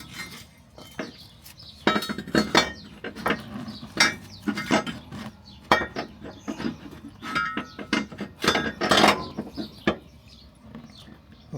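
Metal parts clink and clank as a subframe spacer is fitted onto a lifted Miata, with a steady run of sharp taps, scrapes and knocks close by and no talk.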